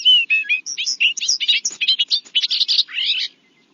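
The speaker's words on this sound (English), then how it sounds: "The bobolink sounded like R2-D2." Bobolink song in a marsh setting: a rapid, bubbling run of metallic, warbling notes with electronic-sounding twists, delivered continuously for about three seconds, close and clear, then stopping.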